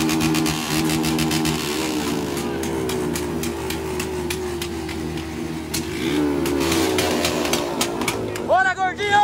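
Motorcycle engine revving through its exhaust on a night ride, a loud close roar with rising and falling pitch sweeps, under people talking.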